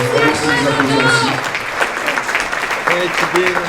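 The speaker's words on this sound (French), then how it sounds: "remercier les applaudissements aussi" Audience applause at a cinema evening, a dense steady clapping crowd with a voice speaking over it.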